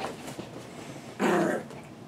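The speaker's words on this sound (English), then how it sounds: "Our dogs quit trying to kill each other." Pet dogs play-fight indoors, letting out a short, close growl lasting about a third of a second after quieter rustling.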